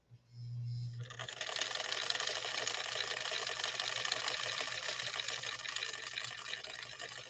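A sewing machine runs at a moderate, even speed stitching fragile thread after a brief low hum at the start, giving a continuous close, fairly loud whirring rattle.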